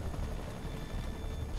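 Helicopter in the Spider-Man video game, a steady broadband rotor roar with a faint chopping pulse, constant in level and nearby, with no talk.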